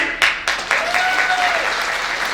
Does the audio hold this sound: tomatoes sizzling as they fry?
no